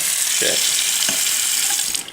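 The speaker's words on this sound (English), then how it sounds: "So you want to fill up with 2 cups of water," Tap water running steadily into a pot, filling it with about two cups of water for instant ramen, a continuous close hiss with faint clinks and brief background sounds.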